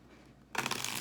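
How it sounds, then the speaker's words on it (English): A deck of tarot cards is riffled in one quick, loud shuffle that begins about halfway through, its papery flutter dense and close after a quiet start. "I'm going to give this deck one more shuffle"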